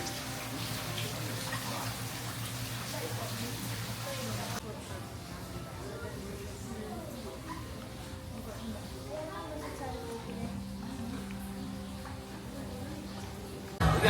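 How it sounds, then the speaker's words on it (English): A water wheel at the Dollywood theme park during its Smoky Mountain Christmas season keeps up a steady, close rush of splashing water, with faint voices in the background. "Love the water wheel."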